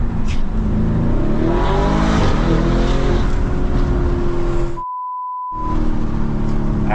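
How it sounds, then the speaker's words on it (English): A Lamborghini drives on the road at cruising speed, a loud close engine drone with rising revs and tonal whine, briefly interrupted by a muted gap with a single beep tone before the engine sound returns. "we are driving just under the speed limit"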